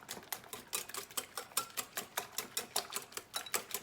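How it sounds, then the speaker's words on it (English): Crepe batter whisked briskly in a bowl, quick, even strokes about four per second clicking and swishing steadily throughout, fairly soft and close. "I'm just gonna whisk it a tiny bit more"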